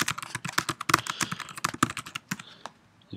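Notes typed on a computer keyboard into a free text box for annotating a meeting recording, a close flurry of quick, irregular key clicks and taps with brief pauses, heard alone.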